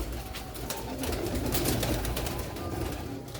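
Pigeons cooing softly and steadily nearby, their low murmuring calls set against strong wind noise.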